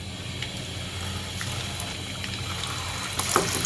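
Homemade beef shami kababs sizzle in hot oil on a stovetop as they are added one at a time, giving a steady close hiss and crackle with a faint low hum underneath and no talking.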